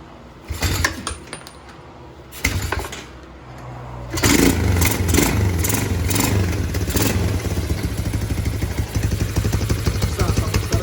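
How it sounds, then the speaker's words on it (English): A freshly rebuilt Yamaha 225DX Tri-Moto engine, heard from two short clattering pull attempts until it catches on the third and keeps running, settling into a loud, steady, close-up putter. "Engine's freshly rebuilt."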